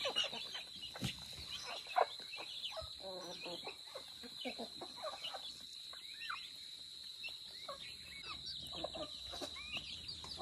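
Chickens clucking at feeding time on a rural farm, a busy flock of scattered clucks and calls, fairly close, with brief sharp louder notes and faint voices now and then.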